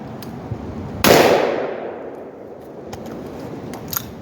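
One sharp, loud rifle shot fires through a Blast Forward muzzle brake with the adjustable gas block fully closed, its blast ringing out and decaying over a second or two, followed by faint clicks.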